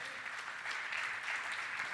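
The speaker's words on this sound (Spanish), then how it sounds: "¿Cuánto le pueden dar un aplauso al Señor?" A church congregation gives a sustained burst of applause during a sermon, a dense, even wash of many hands clapping that holds steady throughout.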